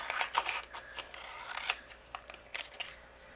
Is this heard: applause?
no